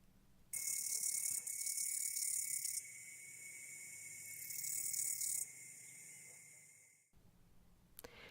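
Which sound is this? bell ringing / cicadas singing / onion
cicadas singing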